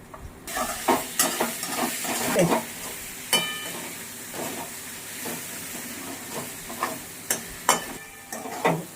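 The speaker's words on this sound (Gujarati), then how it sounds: "હલાવવામાં જરાક પાછળ લઈ બેસી જાય એટલે એક એક મિનિટે હલાવવાનું" Dry raw banana sabzi stirred while frying in a pan: irregular spoon scrapes and knocks over a soft, steady sizzle and hiss.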